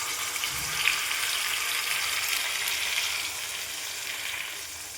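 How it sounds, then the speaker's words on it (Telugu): Onion and tomato paste fries in oil in a pan, giving a steady, close hiss of sizzling that holds evenly throughout with no talking. "ఉల్లిపాయ పేస్ట్ ఇలా వేగుతున్నప్పుడే కొంచెం అల్లం వెల్లుల్లి పేస్ట్ వేసుకోవాలండి"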